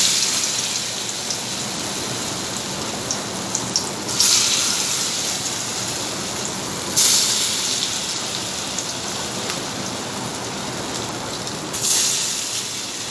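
Karkul pur, dumplings stuffed with fish belly, frying in hot oil, giving a steady hissing crackle throughout with a few brief louder spatters, no talk.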